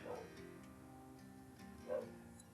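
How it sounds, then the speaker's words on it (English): A dog next door barks faintly in the distance, with two short barks about two seconds apart and no one speaking. "that dog next door drives me nuts"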